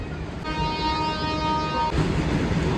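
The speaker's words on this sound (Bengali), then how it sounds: "আমাদের ট্রেন ঢুকছে ওটা দেখুন" A train pulls into Panagarh railway station, a steady rumbling roar with a sustained horn-like tone sounding near and loud for a couple of seconds over the station noise.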